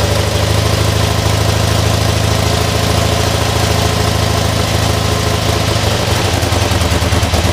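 A V4 engine idles steadily on choke, a loud, close, continuous low rumble with a faint knocking pulse that shifts slightly in tone toward the end.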